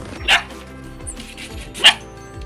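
Two short, high yips from small young dogs, spaced about a second and a half apart, close by with quiet background.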